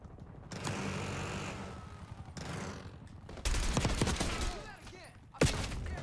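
Shotgun blasts ring out in Call of Duty Black Ops 6 multiplayer, several sharp bursts amid mechanical clicks and weapon handling, with a loud final crack near the end over game noise.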